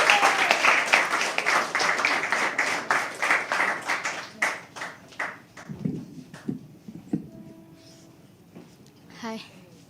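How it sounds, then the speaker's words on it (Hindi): Audience at a stand-up poetry event gives a loud round of clapping to welcome a first-time performer on stage, dense at first and thinning into scattered claps before fading out. "एक बार जोरदार तालियों से स्वागत कीजिए"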